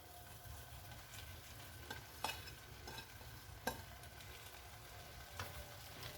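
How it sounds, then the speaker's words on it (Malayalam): Chopped parotta is stirred with egg and masala in a hot pan, quiet sizzling under intermittent sharp scrapes and knocks of the spatula against the pan. "ഇനി നമുക്ക് മുറിച്ച് വെച്ചേക്കുന്ന പൊറോട്ട ആഡ് ചെയ്ത് കൊടുക്കാം. എന്നിട്ട് എല്ലാം കൂടി ഒന്ന് മിക്സ് ചെയ്ത് ഇളക്കി കൊടുക്കാം."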